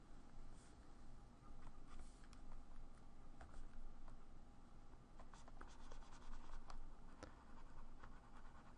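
A pencil drawing on a sheet of paper gives a faint, continuous scratching with small irregular strokes, heard close and alone.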